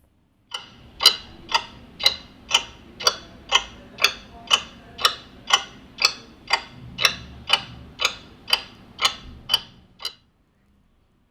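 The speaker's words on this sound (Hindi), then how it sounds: "ये जो घड़ी की टिक टिक है" A clock ticks in a steady, even rhythm, about twenty crisp ticks close up and alone, each evenly spaced before stopping abruptly into silence.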